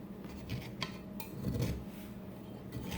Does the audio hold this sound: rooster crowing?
no